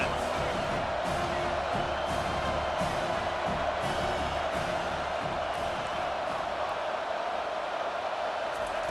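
Steady, dense roar from a stadium crowd in the college football video game EA Sports College Football 25, a continuous wash of noise with faint swells and scattered thumps running throughout.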